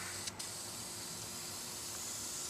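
A steady broadband hiss of an aerosol spray can finishing a wooden flatbow runs continuously throughout, even and fairly quiet, with no other sounds.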